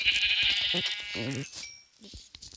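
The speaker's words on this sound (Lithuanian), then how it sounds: "Avytės." A sheep bleats out on a farm hillside, several short wavering calls near the start, while a person speaks nearby between the cries.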